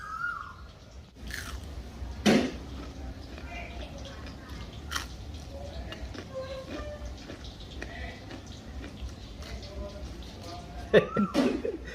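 Crispy fried mussel and corn cakes being bitten and chewed by hand, with soft crunchy bites and a couple of louder crunches standing out against quiet room noise and low murmuring.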